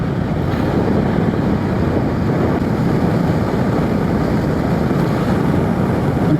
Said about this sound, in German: Bei den 100, knapp 100 jetzt, fährt die GTS 125 auch wirklich sehr angenehm, ganz ruhig.